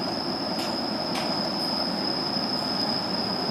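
A Daiyuzan Line train heard from inside a long-seat passenger car gives a steady rumble of running wheels with a high, sustained squeal. A few brief clicks from the track cut through, and no one speaks.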